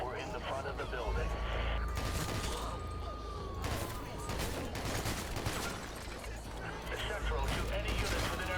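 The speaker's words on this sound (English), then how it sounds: "Suspect is armed and still shooting." Rapid gunfire crackles in a video game, repeated shots and bursts rattling against a dense, noisy backdrop of effects and a droning tone, with no clear pause.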